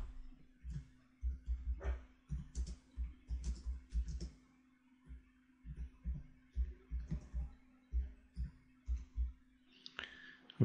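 Typing on a computer keyboard: bursts of quick, close key clicks in uneven rhythm with short pauses between runs, fairly quiet, with a steady low hum beneath and no talk.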